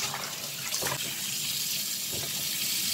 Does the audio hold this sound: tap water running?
yes